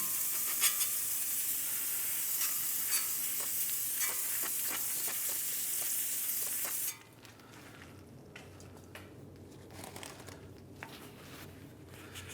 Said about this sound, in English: What we're going to do is hit it with some brake clean.